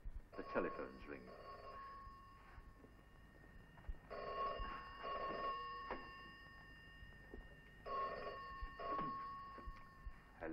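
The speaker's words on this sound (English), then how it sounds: "The telephone's ringing." A telephone in a travel agency office, from an old archive film, rings in three long bursts separated by pauses. Each ring is a steady, bright bell tone heard at moderate distance.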